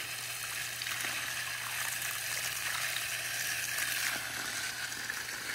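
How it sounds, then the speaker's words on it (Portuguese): Water being pumped up from a 28-metre well at a rural property in Minas Gerais, heard as a steady close hiss and rush of flowing water with a constant low motor hum beneath, no voices. "Aí daqui bombeia"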